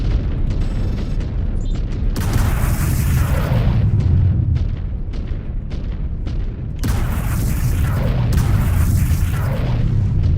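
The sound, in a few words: mechs exploding in the video game Mechwarrior 5: Clans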